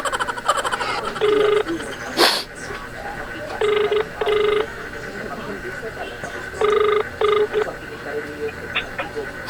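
A phone call for a prank call rings through a handset, with repeated electronic ring tones in short bursts and one sharp click, loud and close with some voice underneath.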